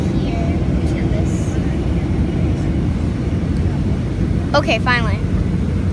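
Steady, loud low rumble of jet airliner cabin noise fills the whole stretch on a flight to Florida, with a person speaking briefly near the end.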